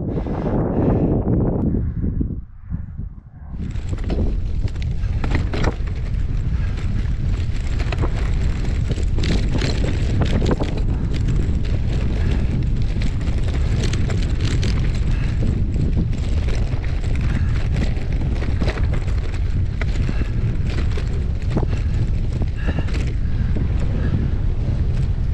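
Heavy wind buffets the microphone of a cyclist riding a gravel bike along a river near Toulouse, a loud continuous low rumble that fills the whole stretch after a brief quieter start.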